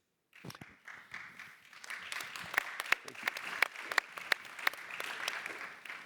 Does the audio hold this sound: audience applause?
yes